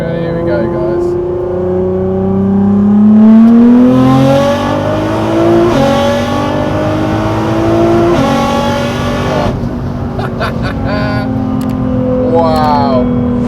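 A 1000-horsepower Nissan R35 GTR pulls hard under full acceleration, its engine rising in pitch through repeated upshifts and sustained loud from inside the cabin, with people talking over it.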